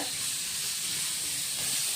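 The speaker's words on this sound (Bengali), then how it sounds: "নোয়ারাটার মধ্যে তেল দিয়ে পেঁয়াজ মরিচ ভাজতেছে" Onions and chili frying in oil in a wok give a steady, dense sizzle with faint stirring, constant and close throughout with no voices.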